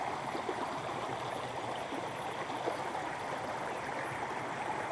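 A river stream in the Balchik botanical garden in Bulgaria flows with a steady, rushing gurgle, fairly quiet and unbroken, with no one speaking over it.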